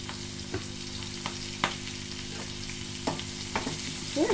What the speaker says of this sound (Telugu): 2-3 మినిట్స్ మంచిగా ఫ్రై కానివ్వండి